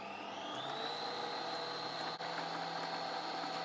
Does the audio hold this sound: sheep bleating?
no